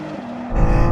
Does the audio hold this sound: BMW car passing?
yes